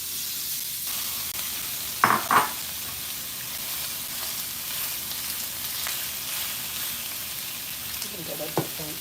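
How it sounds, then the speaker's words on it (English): Shrimp sizzling in a pan for a teriyaki stir fry, a steady soft frying hiss with a few sharp clattering utensil knocks near the start and a louder scrape toward the end. "Okay, and then I'll add the shrimp in."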